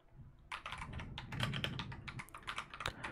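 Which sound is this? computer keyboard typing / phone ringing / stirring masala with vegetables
computer keyboard typing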